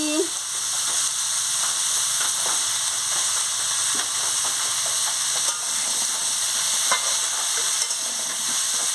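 Raw pumpkin and shrimp sauté in a hot pan for a chorchori, giving a loud, constant sizzle and hiss with occasional scraping stirs up close.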